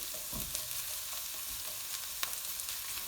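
Food sizzling and frying in a pan over medium heat while it caramelizes soft for a plain biryani rice, with a steady broadband crackle and occasional louder spits and stirring scrapes, close up and without talk.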